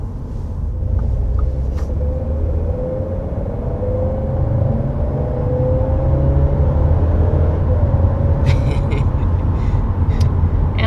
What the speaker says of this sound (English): it really snaps off the shifts quite quickly and crisply